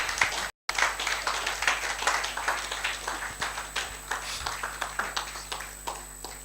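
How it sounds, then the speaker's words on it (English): An audience at a celebration of the Iconic Fagbohun claps after a citation is read, a steady patter of many hands that holds at a moderate level across the room, with no one speaking over it. "Please, a round of applause once again."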